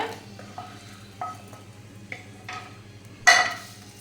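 Ghee-roasted coconut is mixed into wheat flour batter in a bowl, producing soft intermittent scrapes and taps that end in one louder clattering stroke. No one is talking.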